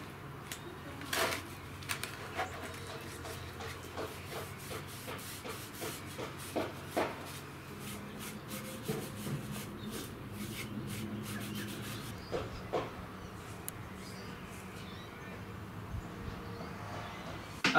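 A brush or cloth rubs varnish onto sanded wood, soft close scraping and rubbing strokes repeating irregularly at low volume.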